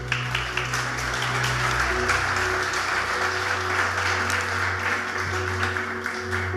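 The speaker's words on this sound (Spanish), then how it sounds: "Dale un aplauso fuerte" A church congregation claps together in steady applause for several seconds, while a low sustained musical tone hums underneath.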